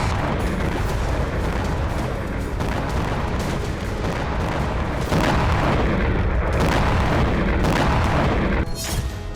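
Artillery fire and heavy bomb blasts on a Russia-Ukraine battlefield near Siversk, a dense, loud, continuous barrage of overlapping booms and rumbling detonations with no pause.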